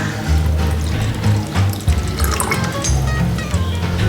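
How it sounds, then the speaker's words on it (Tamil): Water runs and splashes steadily while a mixer jar is rinsed and the water is poured into a ground paste for a village-style chicken curry, a close, continuous kitchen pour with no voices. "இப்போ நான் வந்து ஜாரை கழுவிட்டு அந்த தண்ணியுமே வந்து இது கூடயே நான் சேர்த்து ஊற்றிக்கிறேன்."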